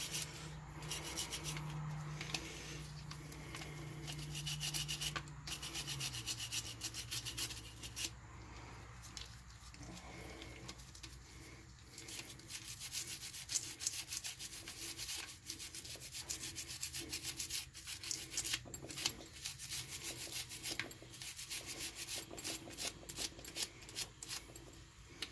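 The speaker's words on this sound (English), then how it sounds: "Go ahead and we'll start giving these areas a good rub down." Steady scrubbing and rubbing on metal cylinder surfaces as carbon buildup is cleaned off, a continuous close rasping texture with irregular strokes and a low hum in the background, no talking.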